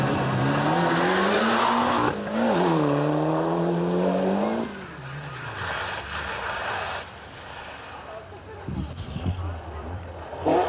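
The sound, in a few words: Ford Escort Cosworth rally car at stage finish line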